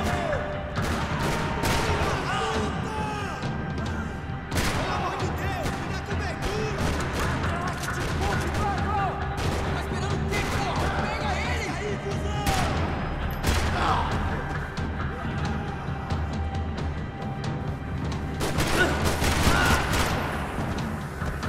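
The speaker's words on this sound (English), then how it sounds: "Another parking lot rattling with gunfire." Loud, dense gunfire in Max Payne 3 rattles almost nonstop in a parking lot, with rapid automatic bursts and occasional heavier booms.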